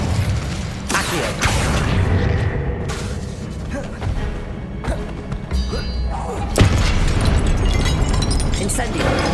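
Accio summoning spell in Hogwarts Legacy on PS5 amid a spell-heavy duel, with repeated heavy thuds, booms and mechanical clatter layered densely over a constant loud bed of game noise.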